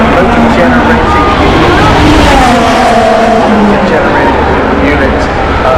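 A Formula 1 hybrid race car engine roars at the Miami Grand Prix, a loud sustained engine drone with shifting pitch and a constant crowd-and-track wash, while a voice talks over it.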